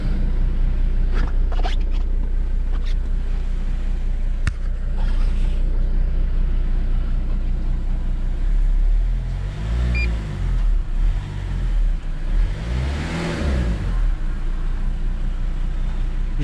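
A decarbonized diesel car engine idles with a low rumble, then revs in two rising-and-falling bursts, loud and close.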